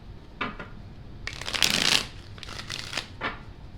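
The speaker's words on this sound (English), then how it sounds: "Shuffle one more time" Tarot cards being shuffled close up: several quick riffling bursts, the longest and loudest in the middle, separated by short quieter gaps, with no voice.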